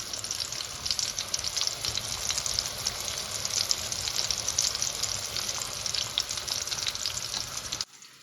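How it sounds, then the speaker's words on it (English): Chicken cutlets frying in a pan of oil, a steady dense crackling sizzle that runs close and even for several seconds before cutting off abruptly, with no talking. "So while it's frying, we don't want to touch it."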